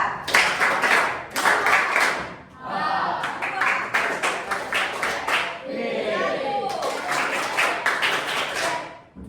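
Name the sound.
children clapping three times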